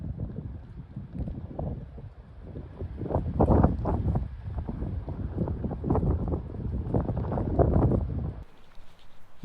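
Wind gusts along a backpacking trail among dead, fallen trees in Yellowstone National Park, buffeting the microphone in rolling, rumbling waves. The blasts are moderately loud and steady, then ease off near the end.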